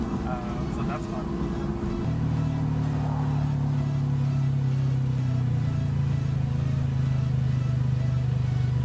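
A Nissan Skyline R32 GT-R approaches as a steady engine drone that shifts pitch and grows, heard from inside another moving car, with people talking over it.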